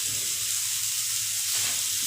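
Ground cumin hits hot oil in a frying pan with potatoes, giving a loud, steady close sizzle that holds for the whole moment with no voice over it.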